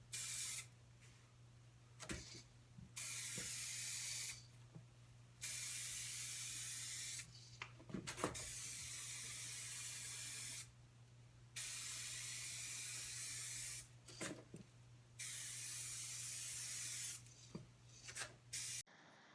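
A gloss coat is sprayed onto a car body during body repair: about eight close, loud hissing bursts of a few seconds each, separated by short quiet gaps, with no talking.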